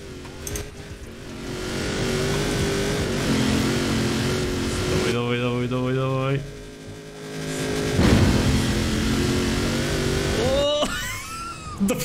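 A Velociraptor 6x6 driving in Forza Horizon 4, its engine droning and revving steadily throughout with gear changes and shifting pitch, loud and close, while someone talks over it.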